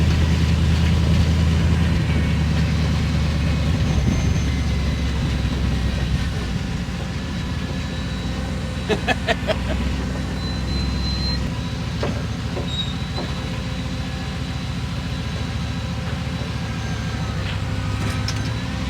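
A Chevy COE cab-over truck on a test drive rumbles with a steady, loud low engine drone under road and cabin noise, with a few brief rattles and clicks partway through and no talking.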